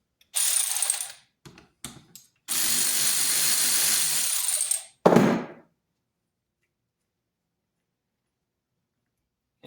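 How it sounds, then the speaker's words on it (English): Ratchet undoing a bolt on the steering gearbox of a 1997 Mercedes SL500 R129, several bursts of rapid clicking close by, including one long run, separated by pauses and followed by silence. "so I can hold on to the steering box while I run my ratchet"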